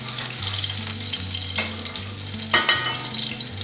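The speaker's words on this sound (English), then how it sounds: "So I'm gonna saute my vegetables now," Vegetables and garlic sizzle and fry in a pan as they are sautéed, a steady close hiss with a few louder stirring scrapes, under light background music and no talk.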